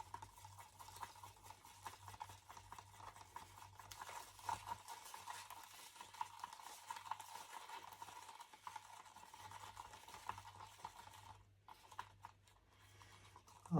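Orange acrylic paint with a tiny drop of black being stirred and mixed, soft continuous scraping and swishing close up, no talk.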